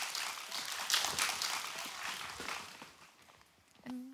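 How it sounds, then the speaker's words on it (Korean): Audience applause welcoming two middle school students onto the stage at a youth environmental culture festival in Ulsan, a dense steady clapping that fills most of the moment and fades near the end as a voice begins. "여러분의 박수로 이 자리를 모시겠습니다"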